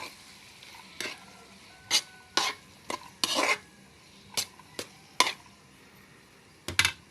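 Egg being stirred into a bitter gourd (ampalaya) stir-fry in a pan, with sharp intermittent spatula scrapes and clacks against the pan over a faint low sizzle, close and spaced irregularly.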